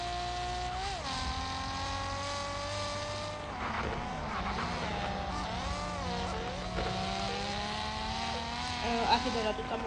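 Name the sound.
car engine in the video game Car Parking Multiplayer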